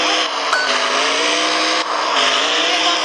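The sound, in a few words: car engine in a video game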